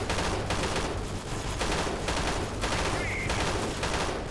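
Dense, continuous gunfire from an armored vehicle in the video game Freeman Guerrilla Warfare, loud, with overlapping rapid shots that keep up without letup through a busy battle soundscape.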